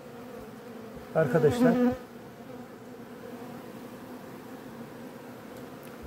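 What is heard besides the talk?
bees buzzing around hive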